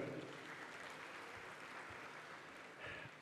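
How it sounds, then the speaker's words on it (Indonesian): Faint, distant applause from a student audience at a finance event fills the hall in a soft, even patter that swells slightly near the end, with no voices over it. "Tepuk tangan buat kita semua"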